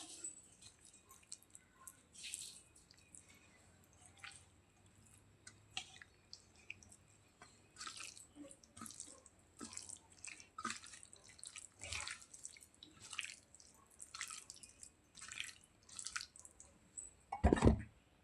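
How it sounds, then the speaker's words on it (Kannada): Raw prawns are mixed by hand with spice paste for prawn kebab, producing soft, wet squelching and faint dripping sounds that come and go, quiet and close, ending with a sharper knock. "ಈಗ ಈ ಫ್ರಾನ್ಸ್ ಐತಲ್ಲ ಚೆನ್ನಾಗಿ ಮಿಕ್ಸ್ ಮಾಡಬೇಕು"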